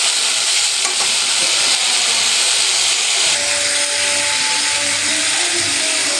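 Food fries loudly in a hot pan while being stirred around, giving a dense, continuous sizzle close up with soft scraping movements throughout.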